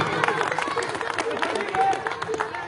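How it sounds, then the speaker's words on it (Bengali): Audience applause at a village cricket tournament prize distribution rises as a crowd claps steadily outdoors, a dense patter lasting the whole moment with chatter mixed in. "সবাই জোরে একটা হাততালি।"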